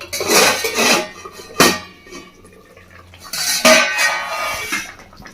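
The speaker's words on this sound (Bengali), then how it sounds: "ঢাকাটা দেখে নিচ্ছি।" A lid lifted off a pot of rohu fish steaming in mustard and yogurt curry, with sharp metallic clanks of lid against pot and clinks, rustling and handling noise between, close and loud.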